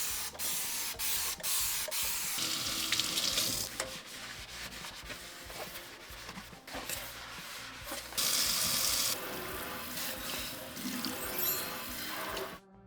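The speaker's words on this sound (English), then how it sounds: "I'm gonna try to clean my sink and see how well it does." A Dollar Tree scouring sponge scrubs a kitchen sink in steady, close rubbing strokes, with brief bursts of running tap water and broadband scraping throughout, no talking.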